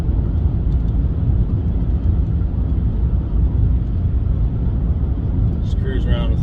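A 2022 Ford Maverick pickup drives over rough Saskatchewan roads, with a steady, loud, dense rumble of road and tyre noise heard from inside the cab throughout.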